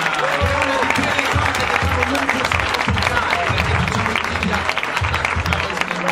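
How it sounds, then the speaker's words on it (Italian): A crowd at an Assassin's Creed Day event with Italian voice actors applauds steadily, with dense clapping throughout and voices and cheers mixed in. "Lo facciamo un applauso al doppiaggio italiano!"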